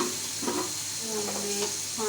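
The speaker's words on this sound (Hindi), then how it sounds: "टमाटर बारीक कटे हुए इसलिए ताकि ये जो है मिक्स हो जाए और इसको हम भूनेंगे" Finely chopped tomatoes frying in a pan for chicken pulao, a close continuous sizzle with soft stirring scrapes, brief and steady.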